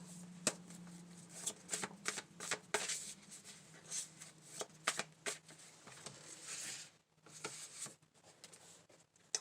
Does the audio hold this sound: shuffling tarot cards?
yes